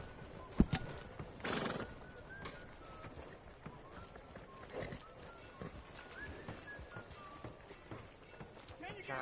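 A horse in Red Dead Redemption 2 neighs loudly near the start, then gallops with continuous clip-clop hoofbeats and light tack rattle over game ambience, with a voice speaking briefly at the start.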